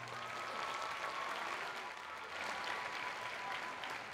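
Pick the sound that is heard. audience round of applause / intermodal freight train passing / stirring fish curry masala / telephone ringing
audience round of applause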